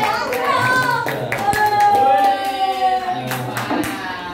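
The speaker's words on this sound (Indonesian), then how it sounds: "Tepuk tangan itu 4 anak yang paling depan." Children in a sixth-grade Indonesian language classroom clap their hands in scattered, uneven bursts, mixed with a teacher's voice and classroom chatter.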